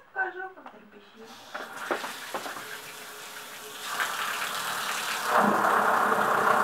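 Water rushes through a limescale-clogged shower head and hose, building from a faint trickle into a loud, steady hiss with a rattling edge under strong pressure, after a person talks briefly at the start.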